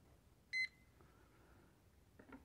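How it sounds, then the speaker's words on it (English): A timer being started while brewing coffee in an Espro French press gives one short, bright beep, then faint fainter tones in a quiet room with no talking. "I'm going to start a timer for 4 minutes."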